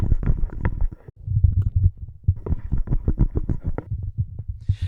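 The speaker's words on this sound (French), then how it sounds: "Le Beta 58 a un bruit de manipulation beaucoup plus low dans les rumbles." Low, rumbling handling noise from a Shure Beta 58 microphone being gripped and moved, a run of close thumps and muffled knocks with a brief pause midway, heard alone without speech.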